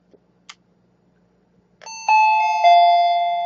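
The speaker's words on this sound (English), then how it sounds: "I'm going to ring the doorbell." An iCreation wireless video doorbell indoor chime sounds after a couple of faint clicks, a clear two-tone ding-dong ringing loud and close, each note sustaining and slowly decaying in an otherwise quiet room.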